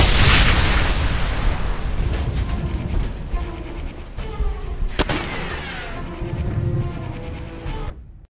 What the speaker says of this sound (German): Aufgepasst! Granate!